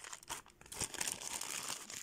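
A plastic parcel bag from an AliExpress package crinkles and rustles up close as it is handled and opened, in quick uneven bursts of crackling with brief tearing sounds.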